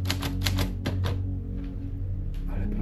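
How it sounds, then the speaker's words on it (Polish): A real mechanical typewriter gives a quick run of sharp, close key strikes, pauses, then starts typing again. The taps carry over a low steady hum. "I tym razem już nie zabawkowa maszyna do pisania. Ale prawdziwa."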